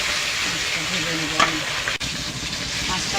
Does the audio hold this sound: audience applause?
no